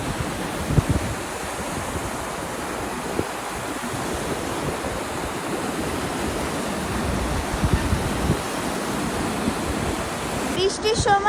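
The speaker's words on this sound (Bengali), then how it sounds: "এইখানে এই নদীর জলের যে আওয়াজটা, এই আওয়াজটা আমার এত ভালো লাগে" A river in England runs in a steady broadband rush of flowing water, continuous and fairly close throughout, with a faint rustle of wind.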